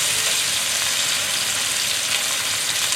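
A pork chop sizzles steadily in a hot pan, a dense and even crackle and hiss that carries on throughout with no talking.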